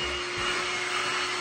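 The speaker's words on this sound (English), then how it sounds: "I can even vacuum" A Makita 36V cordless backpack vacuum cleaner motor runs steadily with a constant whirring drone and a faint tonal whine, loud and close, with no speech.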